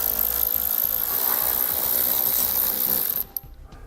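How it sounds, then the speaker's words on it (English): Ratchet with a 15mm socket loosening splash guard bolts on a 2015 Chevrolet during a base plate install, a fast loud continuous ratcheting whir that stops abruptly near the end. "Use a 15mm socket to loosen them first"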